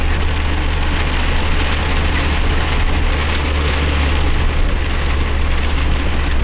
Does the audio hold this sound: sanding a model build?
no